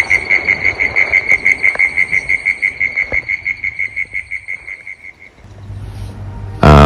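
A cane toad trilling at night in Australia, a loud, close run of fast regular pulses that gradually fades and stops, followed by a quiet pause and a sudden loud burst of noise at the end.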